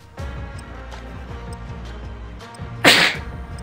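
One sharp, loud sneeze bursts out near the end over a steady background of faint rhythmic music.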